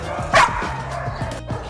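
Puppies up for adoption yip and bark in short, high, overlapping calls against steady background noise, one louder yelp standing out among softer whimpering barks.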